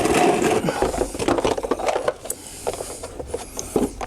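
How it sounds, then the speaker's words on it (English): A plastic windshield washer fluid tank on a Lexus LS400 is worked loose and pulled out of the car, giving close, scraping, rubbing plastic sounds with knocks and creaks, loudest at the start and then fading to softer intermittent handling noises. "That's the entire washer fluid tank out."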